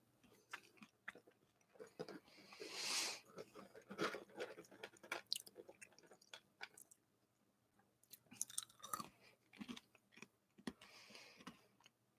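Someone chews food close to the microphone, with wet, crunchy bites and clicks in irregular bursts over several seconds, fairly loud and up close, pausing briefly midway.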